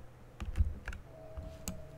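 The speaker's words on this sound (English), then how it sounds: "Let's kind of rock on the keyboard here." A short burst of keystrokes on a computer keyboard, several distinct clicks at an uneven pace, close by with a faint tone underneath.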